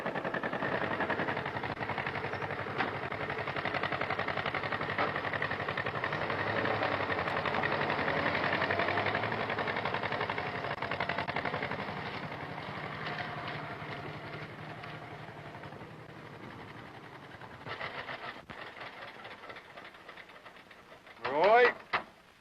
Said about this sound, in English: you would come home and catch me driving a John Deere tractor